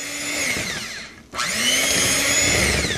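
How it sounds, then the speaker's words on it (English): An electric mixer whirs steadily through banana bread batter with a Nutella and roasted-banana mix, its motor briefly cut before starting up again and running loud and close. "So we're just gonna give this a quick mix."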